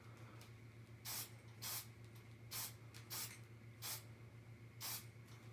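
An aerosol can spray-coating a model rocket fuselage in six short, even bursts of hiss set apart by brief gaps, close up over a steady low hum.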